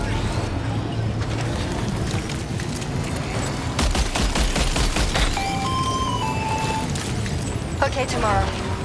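Rapid gunfire bursts in the video game Death Stranding 2 crack and rattle amid a loud, busy combat soundscape with mechanical whines, while characters talk over the action.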